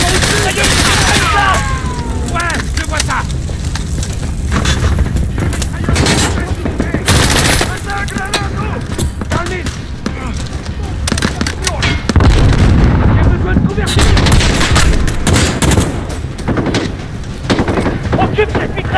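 Machine gun fire in the Call of Duty Modern Warfare video game comes as loud, dense, sustained automatic bursts mixed with explosions and battle noise, continuing for the whole stretch, with French voices talking over it.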